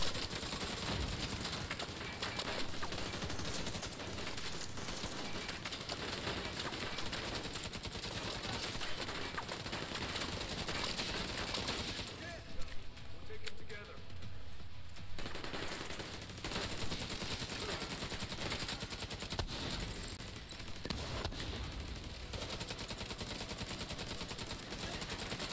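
Sustained rifle fire in The Division 2, a dense, loud stream of rapid shots that continues almost unbroken, with only a brief lull near the middle before resuming at full intensity.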